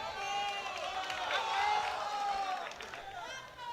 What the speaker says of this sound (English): the Spanish constituency in the crowd cheering him on